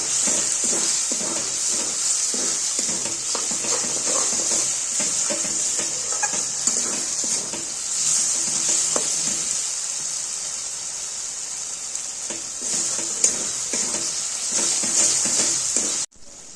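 Green peas sauté with spices and a little water in a pan, a continuous hissing sizzle with stirring scrapes running throughout, briefly easing midway before picking up again.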